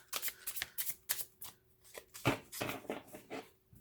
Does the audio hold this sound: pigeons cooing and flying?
no